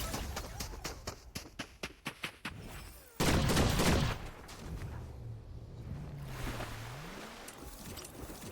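Gunshots in a video game: a quick series of sharp, evenly spaced shots over the first few seconds, then a louder dense burst, followed by quieter game noise with a voice in the background.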